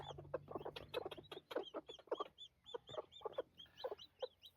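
Mother hens cluck in a brooder shed among their chicks, quick close bursts of clucks alongside bright, high peeping from the chicks, fairly quiet overall.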